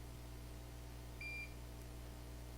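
A soldering repair tester beeps once, a short steady tone heard over a constant low electrical hum on an iPhone 6 Plus repair bench with a no-power fault after a fall.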